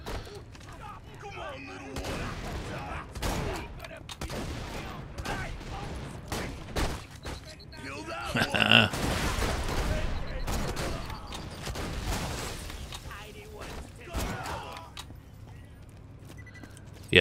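Sniper rifle fire in the Borderlands 2 video game, several sharp shots scattered through a dense, busy game mix with other gunfire and effects, a louder burst near the middle, with someone talking over it.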